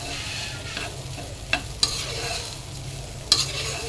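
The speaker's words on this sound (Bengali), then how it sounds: "আমার এখানে পোলাওটা ভাজা হয়ে গেছে, দেখেন কি সুন্দর চরজরা শব্দ করতেছে" Polao rice frying in a pan for egg biryani gives a soft, steady sizzle, broken by a few sharp clicks of a spoon stirring the grains, with no talking.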